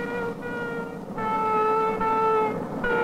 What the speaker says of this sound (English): Take a look at that new turbo train.